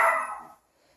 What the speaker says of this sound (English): now you can hear him barking.